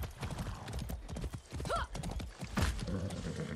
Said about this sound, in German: Wir müssen ein Pferd rufen.